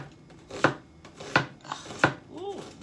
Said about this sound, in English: Cut up my garlic.